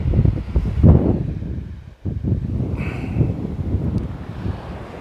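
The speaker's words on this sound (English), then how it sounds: "that's the wind, believe it or not." Gusty wind buffets the microphone outdoors during a fishing trip, a loud rumbling roar that briefly drops out and then returns, with a faint high whine partway through.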